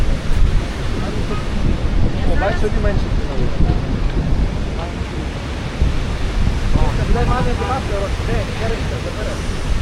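Evening waves along a seaside promenade in Vietnam: a loud, continuous broadband wash of surf mixed with wind buffeting, while people talk faintly in the background.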